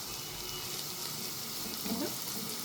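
Garlic frying with softened onion in one pot for shrimp kabsa gives a steady, even sizzle throughout, close but fairly soft.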